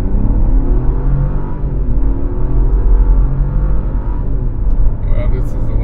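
Buick Envista compact SUV with a 1.2 liter turbo engine accelerating from a standing start, a steady low engine drone and road rumble heard from inside the cabin, continuous and moderately loud.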